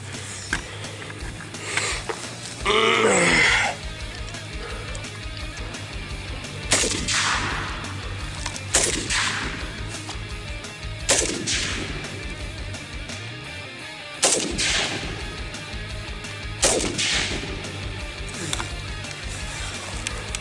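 A Zastava M77 PAP, an AK-variant rifle, fires outdoors during a run-and-gun course, sharp loud single shots spaced irregularly, with footsteps and movement noise between them and no talking.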